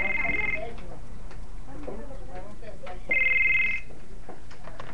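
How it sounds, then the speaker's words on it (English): A telephone ringing with an incoming call: two bursts of a bright electronic trill several seconds apart, ringing out under a man's speech. "I'm getting a phone call again."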